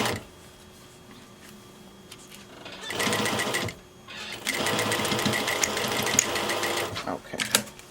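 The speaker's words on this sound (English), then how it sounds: "And then we sew it down again." A sewing machine stitches a fabric face mask with two bursts of fast, steady mechanical whirring and clatter, separated by a brief pause, close by and loud.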